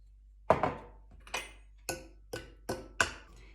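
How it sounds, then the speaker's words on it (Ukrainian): A fork clinks against a glass or bowl while beating eggs with milk and a pinch of salt for an omelette, six sharp, separate taps spaced about half a second apart, close and clear with no talk. "просто вилкою ось так перемішати, щоб все гарненько об'єдналося"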